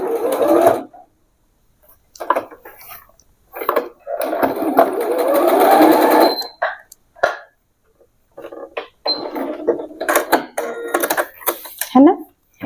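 A sewing machine stitching straight pants runs in bursts, with a long whirring stretch in the middle and short stop-start runs elsewhere, close and loud, while someone speaks between and over the stitching.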